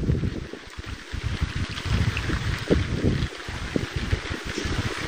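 Strong, gusty wind during a storm with large hail, roaring and buffeting the microphone with irregular low rumbles and flutters throughout, no voices.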